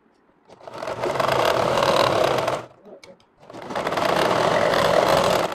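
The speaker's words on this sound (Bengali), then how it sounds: "এভাবে করে সেলাই দিয়ে দিবেন" A sewing machine stitches a frock in two close, steady runs of rapid mechanical whirring, separated by a short pause with faint handling noise.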